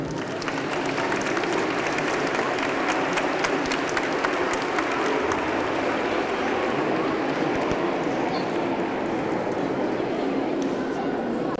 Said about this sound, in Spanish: un fuerte aplauso por lo bien que lo han hecho